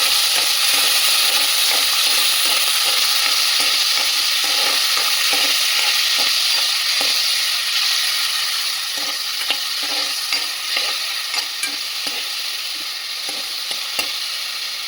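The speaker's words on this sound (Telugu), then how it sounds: "మనం ఫస్ట్ రొయ్యలు వేస్తున్నామండి" Washed prawns fry in a hot pan, a loud steady sizzle with repeated scraping strokes as they are stirred, close and continuous, with no one talking.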